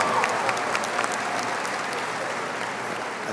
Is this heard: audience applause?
yes